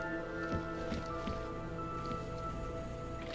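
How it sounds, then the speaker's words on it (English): Water drips in the video game Deus Ex: Mankind Divided, soft irregular drops and patters over a steady background hum with faint musical tones, fairly quiet and without talking. "The drip goes so crazy."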